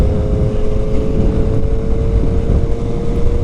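A 2022 Triumph Street Triple R being ridden, its engine a steady, dense drone with constant wind rush over the microphone and no voices.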